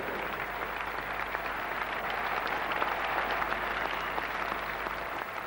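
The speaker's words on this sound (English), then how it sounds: "a standing ovation for him from the crowd who have lost" A cricket crowd at a one-day cup final rises in a standing ovation for an opening batsman, steady sustained applause filling the ground, distant and even throughout without a break.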